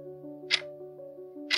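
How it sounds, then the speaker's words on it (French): A clock ticks steadily against a quiet, low background hum, with two brighter, sharper tick accents about a second apart. "Le tic-tac de l'horloge"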